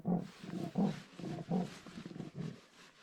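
Leopard roar sound effect: a series of rough, rhythmic sawing grunts, about seven or eight pulses in quick succession, loud and close with no talk over them.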